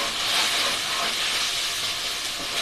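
Chicken kadai sizzles steadily in a hot pan, a close, continuous frying hiss with no pauses.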